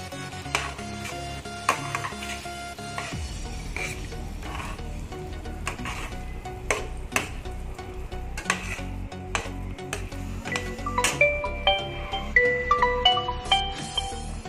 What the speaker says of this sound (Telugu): ఆయిల్ పైకి కనిపించే వరకు మనం బాగా ఎగ్స్ని ఫ్రై చేసుకోవాలి.